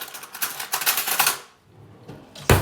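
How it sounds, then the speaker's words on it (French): A spoon stirring shampoo mixed with red cabbage in a small container, quick rapid clicking taps against the sides in short bursts, close and clear, pausing briefly before one final sharp knock, with no talking. "il va peut-être falloir que je prenne une cuillère pour le mélanger un petit peu"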